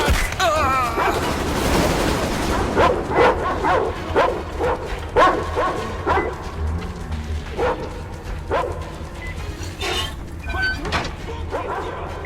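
A dog barks and yelps repeatedly in the video game Metro Exodus, sharp bursts scattered over a tense game soundtrack with voices speaking around them.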